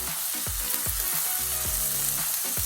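Butter sizzles loudly in a hot pan around a steak, a steady hiss broken by regular low thumps and splutters, with no voices.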